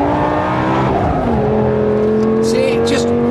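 A Lamborghini Gallardo SE pulls hard in second gear, its engine note climbing then holding a steady high drone under power, with brief tire squeal near the end and someone talking over it.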